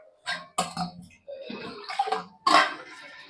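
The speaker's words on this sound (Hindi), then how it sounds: "अब लेती हूँ मैं पानी, ये दूसरा, इसको ठंडा पानी ले लेती हूँ।" Cold water poured into a vessel while preparing starch for a pure odhni: several short bursts of splashing and gurgling in close succession, near and fairly quiet, with no talking.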